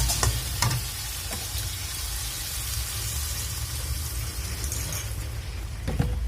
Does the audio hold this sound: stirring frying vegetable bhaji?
yes